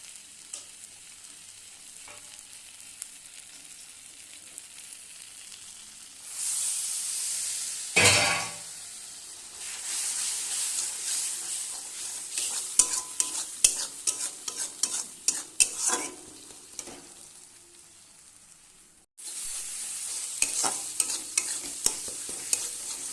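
Greens and fish frying in oil until reddish, seasoned only with salt and no chilli, giving a steady sizzle with a sharp burst of stirring near the start and busy scraping clatter after, then a lighter hiss.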